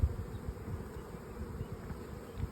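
Many bees drone around a hive in a steady, low buzz, a continuous swarm hum close by with no talking.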